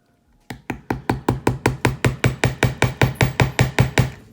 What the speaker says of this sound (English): I hammer it just a little ways in.